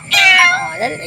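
A single drawn-out cat meow, fairly loud and close, rising then trailing off into a softer second cry.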